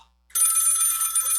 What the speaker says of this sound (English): telephone ringing on a holiday!